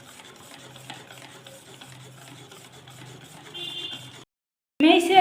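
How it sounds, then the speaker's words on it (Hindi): A spoon beats malpua batter flavoured with crushed cardamom and fennel in a bowl, a soft, rhythmic swishing close by, then a short pause and a sudden louder clatter at the end. "अब मैं इसे अच्छे से मिक्स करूंगी"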